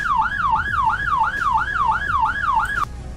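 A Roblox sheriff patrol car's second siren yelps in a fast, regular rise-and-fall cycle, about eight quick sweeps, loud and up close.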